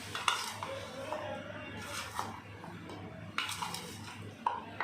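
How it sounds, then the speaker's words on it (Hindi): A spoon mixes boiled beef with added ingredients in a bowl for beef pakora, producing irregular clinks and scrapes of metal against dish, close by and moderately loud. "अब ये दोनों चीज़ें इसमें शामिल कर देते हैं और बहुत अच्छे से मिक्स कर लेते हैं।"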